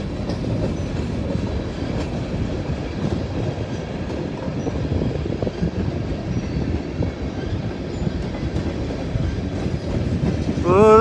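A long train passes close by with a continuous rolling rumble and rattling wheel clacks, growing louder with a brief squealing tone right at the end.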